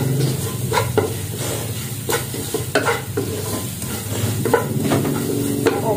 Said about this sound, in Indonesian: Tinggal diaduk-aduk rata aja ini.